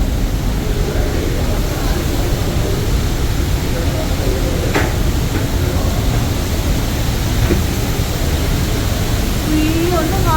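Niagara Falls roars as a loud, steady broadband rush of falling water heard up close, with faint voices briefly audible beneath it.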